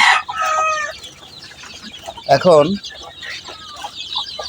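Hens clucking among a brood of fifty chicks hatched under five hens, with a sharp rooster-like call midway; bursts of clucks and chirps come through near and fairly loud, and a person says a single word.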